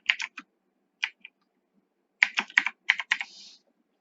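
Typing on a computer keyboard while writing Python code, heard as short bursts of crisp close key clicks separated by brief pauses, with no talking.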